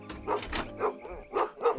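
A cartoon dog barks several times in quick succession, close and fairly loud, with short yipping woofs over a faint background.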